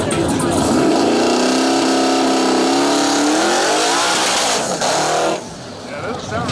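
A race car engine running rough at a racing event revs loud and close with an uneven, wavering drone that rises and then fades, with a commentator talking over it.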